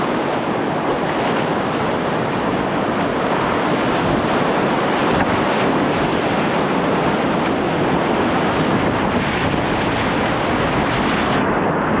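Whitewater rapids on the Ocoee River roar loudly and continuously around a kayak, a dense rushing wash of churning water with wind buffeting the microphone.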